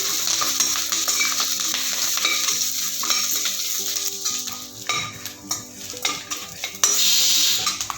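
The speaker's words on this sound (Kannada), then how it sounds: "ಬೆಳ್ಳುಳ್ಳಿ ಕರಿಬೇವು ಬೆಳ್ಳುಳ್ಳಿ ಬ್ಯಾಡಗಿ ಸ್ವಲ್ಪ ಚೆನ್ನಾಗಿ ಫ್ರೈ ಆಗಲಿಪ್ಪ ಒಗ್ಗರಣೆಯಲ್ಲಿ" Garlic, curry leaves and Byadagi chillies sizzle steadily in hot oil for a South Indian dal sambar tempering, with occasional stirring clinks and scrapes of a utensil against the pan.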